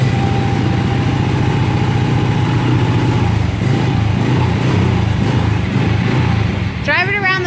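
A 600 micro sprint race car engine idles with the choke on, making a loud, steady, close throbbing pulse that holds for several seconds before the revs briefly rise near the end.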